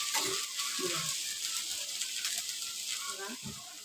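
A rice and coconut ghavane sizzles on a hot pan as it is loosened and flipped, a soft continuous frying hiss with a few scraping, spatula-like knocks.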